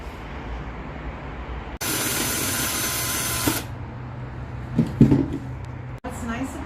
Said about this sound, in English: I'm going to have to drill a hole with a bit in the middle here so I can fit my saw in between here